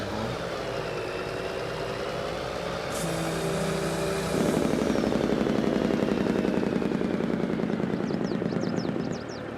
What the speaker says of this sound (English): A lot of sounds going on with this truck.